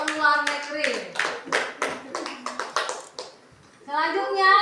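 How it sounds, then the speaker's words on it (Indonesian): Children's class applauds a presenting group with a run of sharp rhythmic claps, near and moderately loud, before a voice resumes speaking. "Tepuk tangan untuk kelompok luar negeri."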